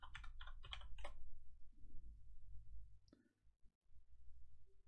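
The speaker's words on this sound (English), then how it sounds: "we're gonna type in Overwatch" Computer keyboard typing in quick clicking bursts for the first second or so, then stopping, followed by low background hum, a couple of faint clicks and quiet room noise.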